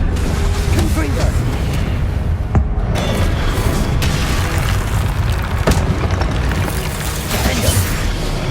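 Confringo fire spells in Hogwarts Legacy on PS5 set off dense, booming explosions that rumble continuously at high volume, with one sharper blast midway.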